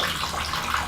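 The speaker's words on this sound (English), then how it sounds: "So we need 334 grams of water. So I'm just going to pour that in until I get pretty close." Water poured from above into a bowl for bread dough, a brief steady splashing gush, close and fairly loud, with no talking.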